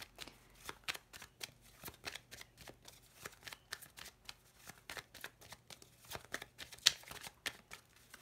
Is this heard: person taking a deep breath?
no